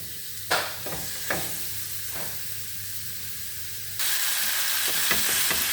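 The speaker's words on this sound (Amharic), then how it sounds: "መጥበሻችንን ጥደን እንጠብሰዋለን ማለት ነው።" Marinated chicken frying in a pan for a sandwich, a steady close sizzle with a few sharp spatters and scrapes, then it grows louder and fuller near the end.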